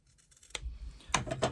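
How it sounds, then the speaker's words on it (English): Scissors snipping the corners of fabric quilt binding, two or three quick, crisp cuts close up in a quiet room. "I'm just going to trim off the corners"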